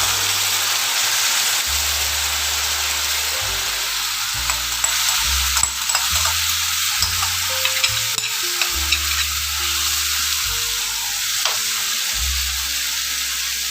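Small mourala fish frying in mustard oil with black cumin seeds, a loud, even sizzle under repeated scraping stirs and clinks of a utensil against the pan.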